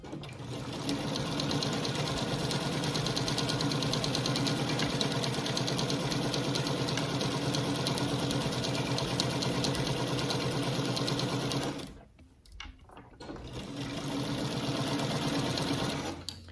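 Sewing machine stitching a log cabin chip quilt, a steady loud mechanical whir that runs continuously, pauses briefly about twelve seconds in, then resumes.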